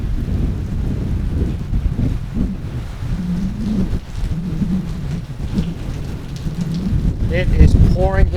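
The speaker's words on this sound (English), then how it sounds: "It is pouring here in Kansas City. Looks like a thunderstorm close by" Heavy rain pours in Kansas City with a thunderstorm close by, a dense steady roar with low rumbling and wind buffeting the microphone, and faint thunder swelling near the end.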